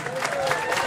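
An audience applauds the golden-anniversary couple at a celebration in Laguna Seca, Fresnillo, in a brief, dense burst of clapping with scattered cheering.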